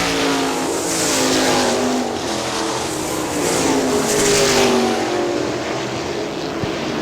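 410 sprint cars race at Hartford Speedway in Michigan, a dense engine roar sustained throughout, rising and falling as the pack passes on the track.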